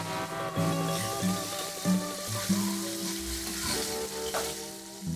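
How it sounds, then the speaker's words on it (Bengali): A tempering of bay leaf, slit green chillies and kalonji seeds fries in hot oil, sizzling steadily up close with occasional stirring and light clinks, no one talking. "এই তেলেই ফোড়ন দিয়ে দেব একটা তেজপাতা দুটো কাঁচা লঙ্কা চিড়ে নিয়েছি আর হাফ টিস্পুন কালো দিয়ে ফোড়নটাকে ফ্রাই করব পনেরো সেকেন্ড"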